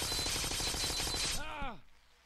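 A machine gun fires in the Happy Wheels video game as a fast, even string of loud bursts. It gives way to a falling, warbling whine and then near silence.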